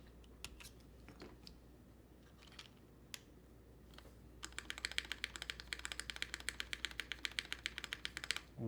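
Typing on a Suisei mechanical keyboard by Kibou fitted with GMK keycaps: a few scattered clicks at first, then a steady, close run of crisp, rapid keystrokes over a faint background hum.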